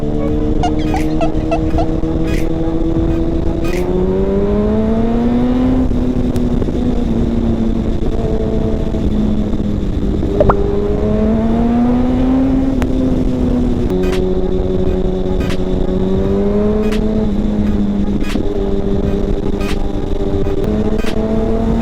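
Car engine accelerating hard through the gears with traction control set to level 3, each pull rising in pitch then dropping at the shift, repeated several times, loud and close with occasional sharp ticks over the steady drone.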